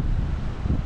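Steady low rumble of wind buffeting the microphone in Elista, constant and fairly loud throughout, with no other distinct sounds.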